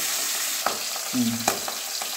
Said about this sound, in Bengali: আমার মাছটা প্রায় লাল লাল করে ভাজা হয়ে গেছে